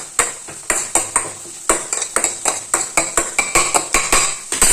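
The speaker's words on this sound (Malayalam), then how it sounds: "ഒന്നുകൂടെ ഇളക്കി കൊടുക്കുക." Onions and green chillies stirred in a metal pan, with a steady run of sharp utensil scrapes and clinks against the pan repeating roughly every third of a second, fairly close and loud, with no talking.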